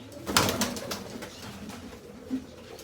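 A red flying pigeon coos softly nearby in a few low, rolling calls, with a brief rustle at the start and no talking.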